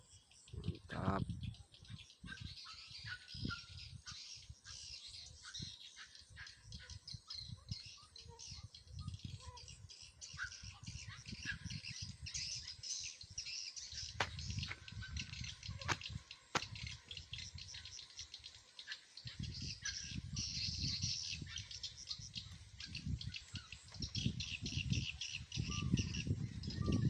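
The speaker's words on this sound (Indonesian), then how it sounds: "Burung sudah mulai berdatangan." Birds gather at a bird house in the evening after lamps are installed, giving faint, scattered chirps and calls over a steady hum of insects and distant background noise.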